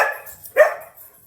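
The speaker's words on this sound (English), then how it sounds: "And that's my dogs." Pet dogs barking indoors after a doorbell rang during kitchen pumpkin puree prep, a couple of sharp near barks with a short pause between, loud against an otherwise quiet room.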